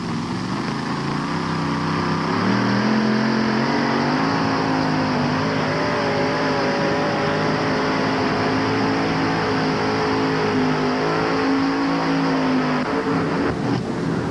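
A modified mini pulling tractor in the Sting roars loudly and steadily down the pulling track at a 1988 NTPA event in Syracuse, its engine pitch climbing and holding under strain for the whole stretch.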